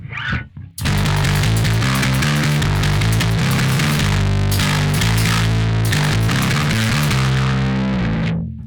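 Heavily distorted, fuzzy bass guitar played through drive and fuzz plugins plays a loud sustained riff for several seconds after a brief quiet start, then cuts off.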